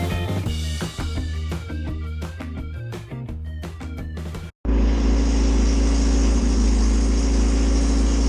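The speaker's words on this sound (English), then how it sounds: "Alright, so the bike runs, which is good. It only runs on choke" A Honda CBR900RR Fireblade SC28 motorcycle, a restored barn find, runs only on choke after its carburettors have been refitted. Its engine holds a loud, steady idle for the second half of the recording, following an earlier stretch of other sound.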